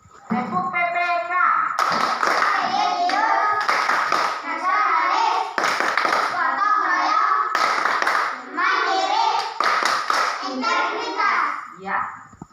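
Children clap a rhythmic group chant together in a classroom, sharp hand claps landing in repeated bursts between energetic young voices chanting along.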